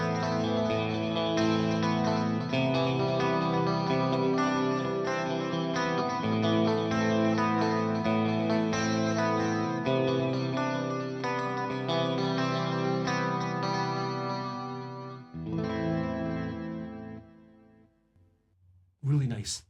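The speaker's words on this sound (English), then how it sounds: "Now, number 3 in this bank is another triplet delay." An electric guitar plays through a stereo triplet delay, quarter-note triplet on one side and half-note triplet on the other, dense echoing chords repeating for about fifteen seconds, then trailing repeats fading out before a brief final sound.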